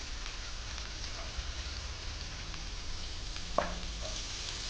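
Finely chopped onion and green chili sautéing in a pan, a soft steady sizzle at low level with a faint clink of a utensil near the end.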